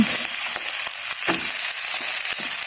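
Eggplant and mixed vegetables fry in hot oil for a sautéed vegetable dish, a loud, close, steady crackling sizzle with scattered pops and stirring scrapes, no voices.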